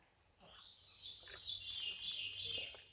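A wild bird on the Appalachian Trail gives a sustained, high whistling call that rises and holds for a couple of seconds, moderately near against faint low background hum, with no talking.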